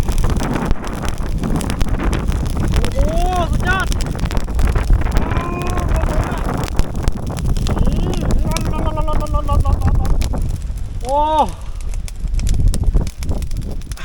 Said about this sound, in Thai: ลมแรงมากนะทุกคนดูฮะโอ้ ลมแรงอะ